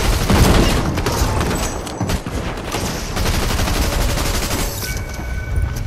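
Dense gunfire fills a Fortnite match: rapid, loud automatic bursts and shots run continuously almost without a break, with a few heavier booms mixed in.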